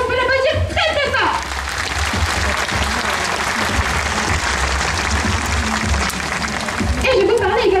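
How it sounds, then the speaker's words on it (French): Audience applause at a zoo animal show, a steady broad wash of clapping under a speaker's amplified voice that rises and fades in at the start and end. "On peut l'applaudir très très fort."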